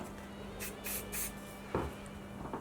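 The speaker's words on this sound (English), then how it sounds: "I'm going to use a little bit more wax spray" Several short hissing bursts from a wax hair spray can in quick succession, close and fairly quiet, followed by a brief clatter.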